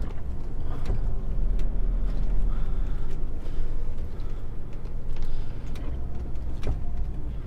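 A vehicle is eased slowly into position alongside a trailer, its engine giving a steady low rumble and drone throughout, fairly close and without any talk.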